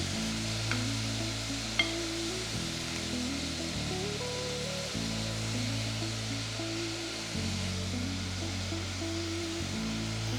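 Onions and a few pieces of pork fat fry in a pan for a pork pepper roast, a soft, continuous sizzle with light hiss running steadily under prominent background music.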